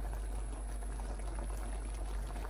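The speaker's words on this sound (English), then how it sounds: "So as you can see, it's bubbling away." Water with cauliflower bubbles steadily in a pan on medium heat, a soft, continuous simmer with no pauses.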